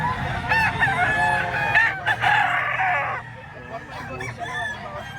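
A rooster crows nearby in a loud, drawn-out call lasting a few seconds, followed by softer clucking and fowl sounds in the background.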